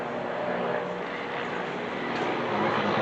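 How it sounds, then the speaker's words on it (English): A helicopter passes overhead as a steady, broad rumbling wash that holds level and swells slightly toward the end, with no voices over it. "wait for the helicopter to go by"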